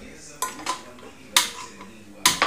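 A metal pressure cooker is set down on a home gas stove, making a few sharp clanks and clinks of pot against burner grate, with quiet gaps between.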